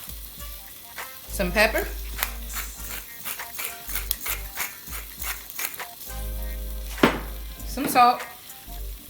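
Onions, minced garlic and thyme sizzle in a pan, a steady close frying hiss broken by scraping stirs and clinks, while a person talks over it.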